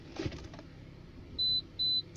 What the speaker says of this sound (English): I get the 2 beeps indicating the reversing sensor is ready